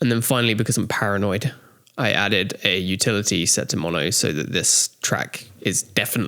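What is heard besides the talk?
No everyday noise stands out behind the speech.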